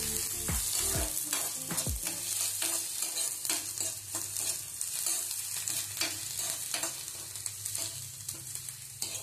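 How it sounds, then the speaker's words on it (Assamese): Continuous crackling sizzle of onions frying in a pan until brown, punctuated by irregular scrapes and clinks of stirring, close and fairly loud. "পিয়াজটো অকমান ব্ৰাউন কালাৰ ভাজি লম মই"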